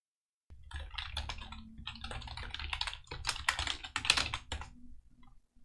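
Someone enters a username on a computer keyboard in bursts of close, crisp key clicks, with short pauses between the runs of typing.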